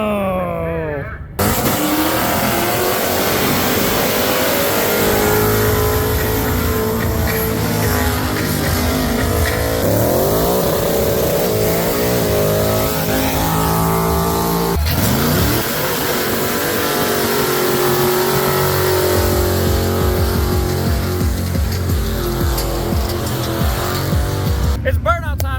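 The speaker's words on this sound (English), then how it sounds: "It's burnout time, guys." Drag race cars doing burnouts at the Indy 800, including a 1,500hp BMW: loud, sustained engine roar and revving with tire squeal throughout, swelling in waves, with a faint voice in the mix.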